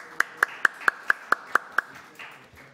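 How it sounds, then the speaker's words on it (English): A lone pair of hands claps eight times in a steady rhythm at a committee meeting, crisp and close, tapering off into a quiet room. "Can we give them an unofficial round of applause for that?"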